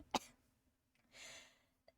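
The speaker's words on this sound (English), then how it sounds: "I need to cough." A single sharp, close cough bursts out at the start, followed by quiet and then a longer breathy exhale, with a faint click near the end.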